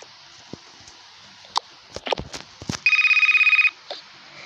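A telephone rings once in a short electronic trill near the end, clear and close, following scattered knocks and thumps from a family scene.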